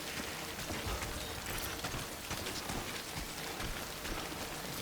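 Timefall rain in the video game Death Stranding falls as a steady, dense hiss of drops, continuous and fairly even in loudness throughout, with no voices.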